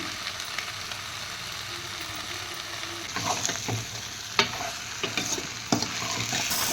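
Mutton pieces fried and stirred in a pan, a steady sizzle running throughout with sharper scraping stirs and clinks of the spoon growing louder in the second half; no talking.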